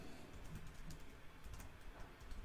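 Computer keyboard typing a chat message, a quick run of light, faint key clicks in an irregular rhythm against a quiet room.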